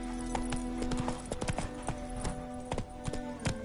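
Hooves of the horse Roach clip-clop in The Witcher 3, a steady run of sharp, fairly close hoofbeats over a faint sustained musical drone.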